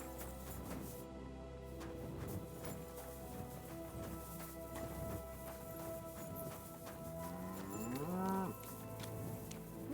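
Inside a barn in the video game Kingdom Come Deliverance 2, a cow lets out a drawn-out moo that rises near the end, over steady ambient farm noise and faint hoof clops.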